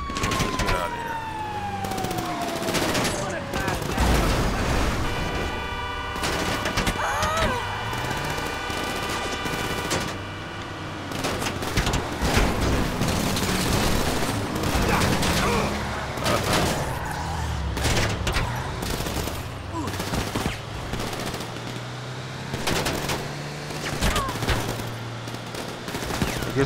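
Near-constant automatic gunfire from the video game GTA Online rattles throughout, mixed with wailing police sirens and engine noise, loud and busy from start to finish.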